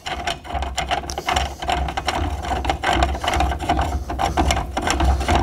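Ratcheting clicks while tightening down the pole of a Lowrance Ghost electric trolling motor mount, close and steady, with repeated mechanical clicks and turns running through the whole stretch.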